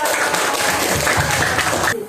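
A fifth-grade classroom of students claps for a classmate, a loud burst of many small hands that runs about two seconds and then stops abruptly.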